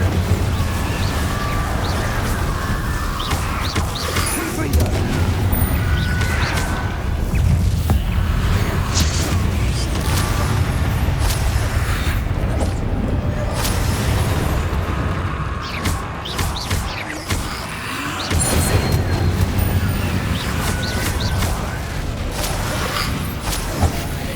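In Hogwarts Legacy on PS5, repeated Incendio fire spells burst out as rumbling whooshes and booms layered over a dense, constant game soundscape with low drones and scattered crashes, loud and continuous.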